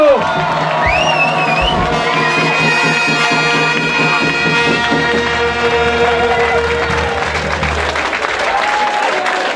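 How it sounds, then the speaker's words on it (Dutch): A carnival society crowd at a prince celebration bursts into loud sustained applause with cheers and whoops, dense and continuous under music-like tones throughout. "Geef hem maar een tiegelijk hard applaus"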